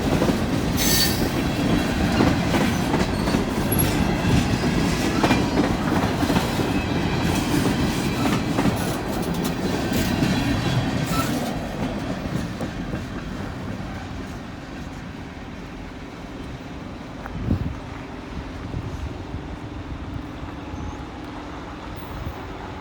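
A long freight grain train rolls past with its rail cars: a loud, continuous rumble with clickety-clack and squealing wheels that softens and thins out after the midpoint as the cars keep passing.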